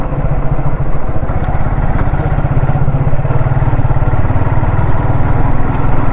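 Motorcycle ridden along a town road in Tezpur, its engine a loud, steady close-up drone with a rapid throbbing pulse and rushing wind noise throughout.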